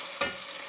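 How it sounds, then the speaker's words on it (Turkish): Onions and garden peppers fry in a Sinbo electric pot while being stirred, giving one brief scrape over a steady background sizzle. "Şöyle karıştırayım."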